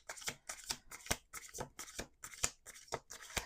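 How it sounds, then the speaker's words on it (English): Tarot cards being shuffled in quick, crisp bursts, about eight riffles in a row, close up and fairly loud. "Last shuffle."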